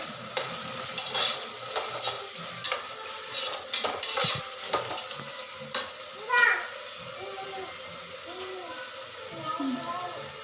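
Ginger-garlic paste with coriander stir-fried in a pan: a soft sizzle under repeated spoon scrapes and clinks against metal, with a voice speaking in places.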